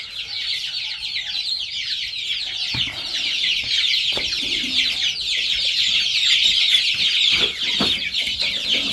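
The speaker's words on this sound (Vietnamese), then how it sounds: "gà này cứ cho ăn đậm mà cho ăn lớn" Chickens cluck and chatter continuously in a dense, steady flock while being fed, with a few faint knocks and rustles beneath.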